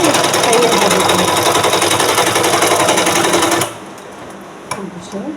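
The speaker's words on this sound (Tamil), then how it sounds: "இது பண்ணிவிட்டு லாஸ்ட் ஒரு தையல் போட்டுக்கணும்." A sewing machine stitches a blouse in a loud, close continuous run that stops abruptly partway through, leaving quieter room sound and a brief clack.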